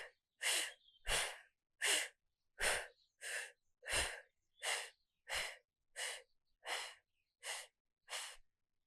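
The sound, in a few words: slow deep breathing during yoga core brace hold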